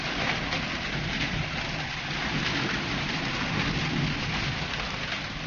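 Hail and rain pouring down during a hailstorm in Hyderabad, Telangana, a dense, steady roar of drops and ice pellets striking surfaces, continuous and close, with no voices.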